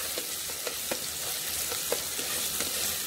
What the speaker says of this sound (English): about 2 teaspoons of ginger garlic paste, and I will saute that to get the raw taste out of it